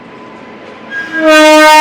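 Train passing through Erode Junction station sounds a loud sustained horn that rises suddenly over a low rumble, near and dominant.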